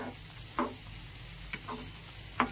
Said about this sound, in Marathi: तर पहा आपली दही मिरची किती छान शिजत आहे